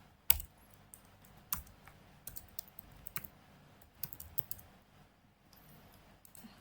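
Short bursts of keystrokes on a computer keyboard while entering a simple Python print program, quiet and close, with irregular pauses between clusters of clicks and no talking.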